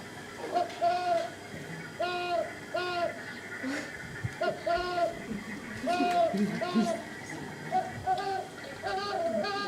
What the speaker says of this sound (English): a great horned owl is one of the most common calls that you will hear